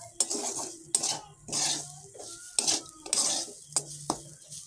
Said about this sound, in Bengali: দিয়ে একটু নাড়াচাড়া করে নিয়ে এটাকে এবার ঝুড়ো ঝুড়ো মতো করে ফেলতে হবে